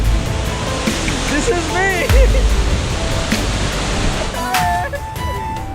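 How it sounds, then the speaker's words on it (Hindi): A waterfall at a landslide site in Dalhousie, Himachal Pradesh, roars in a loud, steady broadband rush, close by, while someone talks briefly over it. "मैंने अपनी लाइफ में पहली बार ऐसे वाटरफॉल लैंडस्लाइड देखा है।"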